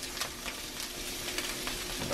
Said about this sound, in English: I'll throw in my butter on the potato side and get that melting.